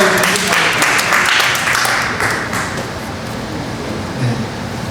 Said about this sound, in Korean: 감사의 박수 한번 드리도록 하겠습니다